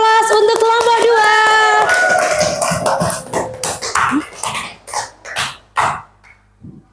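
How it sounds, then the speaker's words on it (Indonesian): Students in a primary school classroom break into scattered, uneven clapping for a group after a voice speaks, the claps coming in loose bursts mixed with chatter. "Mari kita berikan aplaus untuk kelompok"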